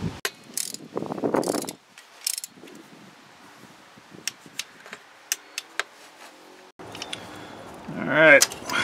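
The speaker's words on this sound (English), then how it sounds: "And then I am going to torque it to 133 inch pounds." A torque wrench tightens a spark plug on a Ford 2.7L engine to spec, giving a scattered series of sharp, close ratcheting clicks, with brief talk at the start and mechanical rattling toward the end.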